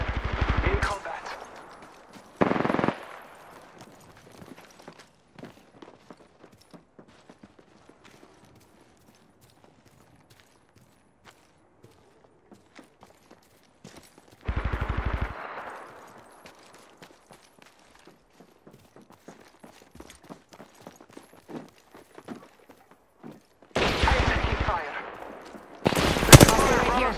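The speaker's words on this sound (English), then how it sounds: "I'm taking fire." Gunfire in Apex Legends, with several loud bursts of automatic fire around a busy stretch of quieter clicks, footsteps and scattered shots.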